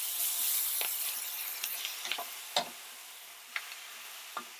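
Raw meat sizzles in a hot pan with oil while a utensil stirs it, soft continuous frying hiss broken by a few scattered scrapes and taps, close up, nobody talking.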